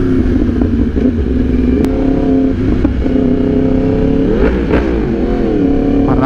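A Yamaha R1 sport motorcycle engine revs loudly and close, its steady harmonic drone rising and falling through several throttle blips over a continuous rumble.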